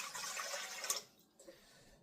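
Water poured into a bowl while mixing pizza dough, a steady splashing pour for about a second that stops abruptly, leaving a quiet room with a faint trickle afterward.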